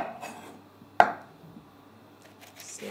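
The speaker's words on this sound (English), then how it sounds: "Slice down the middle. I generally remove the middle bit and we'll just roughly chop." A single sharp knife chop through fresh chillies on a board, one close crisp thud followed by faint scraping.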